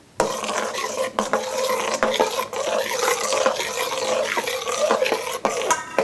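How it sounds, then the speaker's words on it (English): Yeast and water being stirred in a bowl for homemade bread, a steady scraping, swishing stir that runs continuously at close range with a few brief knocks. "we're going to stir it a bit"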